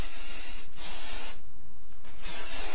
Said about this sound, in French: pour la faire tenir, j'utilise le spray fixateur de chez Viveldop.